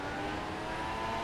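A Formula 1 car engine held at full throttle in the F1 2016 mobile racing game on the Spanish Grand Prix circuit, a steady, loud, sustained high-pitched whine with no breaks, heard alone.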